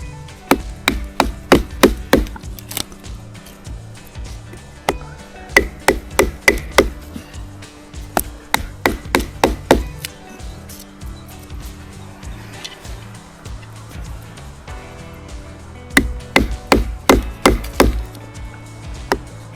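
A Morakniv Risberg bushcraft knife batoned through wood outdoors, sharp repeated wooden knocks in quick bursts of several strikes with short pauses between, close and loud, no talking.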